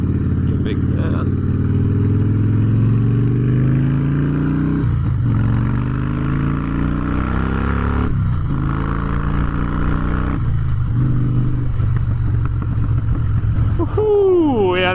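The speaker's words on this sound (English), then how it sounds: "that's Harley-Davidson right there" A Harley-Davidson Breakout motorcycle with a Twin Cam engine idles and revs loudly nearby, its deep throbbing rumble rising and falling in several swells through the whole stretch.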